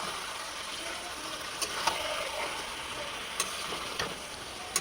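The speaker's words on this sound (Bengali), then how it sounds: "আমি নাড়িয়ে নিই ভালো করে।" Meat curry stirred and frying in a pan, with a steady close sizzle and a few sharp scrapes and clacks of the spoon at irregular moments.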